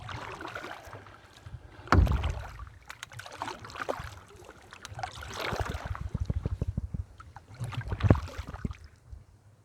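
Paddle strokes on water from a small boat while out fishing, a few soft splashing dips and gurgles at an unhurried rhythm, close to the microphone, with light wind noise.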